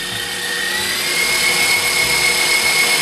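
A KitchenAid stand mixer runs on medium high, speed 9, whipping cream with a loud, steady motor whir and high whine throughout, close up and without talk.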